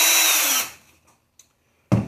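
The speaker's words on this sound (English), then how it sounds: "I hold my drill at about a 45 degree angle, and I start my hole." A power drill whirs loudly for about half a second, drilling a hole in wood at a 45-degree angle for quarter round trim, then winds down and stops, followed by a faint click and a short burst of handling noise.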